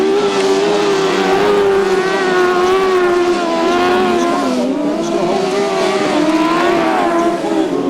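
1000cc racing sidecars roar around a grasstrack, a loud continuous engine drone whose pitch rises and falls as the outfits accelerate and ease off, steady throughout with no voices.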